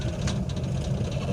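A car engine labouring at very low revs, almost stalling, gives a steady low rumbling vibration heard up close and alone.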